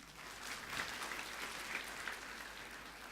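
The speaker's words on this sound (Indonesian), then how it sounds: "Tepuk tangan buat Anda sekalian." A crowd applauds steadily for a few seconds, a dense even patter of clapping that sounds somewhat distant.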